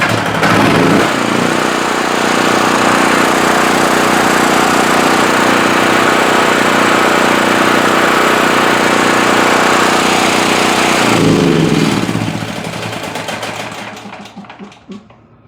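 A small portable generator engine fires up and runs steadily with a buzzy, high-revving drone for several seconds, close and loud with no talk, then cuts off and winds down at the end.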